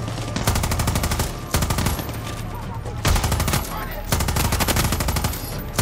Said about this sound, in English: We switched to the chain gun or the light minigun.